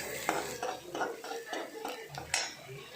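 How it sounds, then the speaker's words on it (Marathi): Masala is stirred in a pan until it browns. Soft, rhythmic scraping and light metallic clinks of a spoon against the pan repeat every half second or so, faint and close, over a quiet background. "लाल होईपर्यंत हलवायचं"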